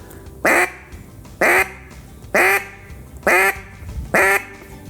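Five loud, evenly spaced quacks from a duck call, each short and nasal with a falling pitch, close to the listener with quiet gaps between.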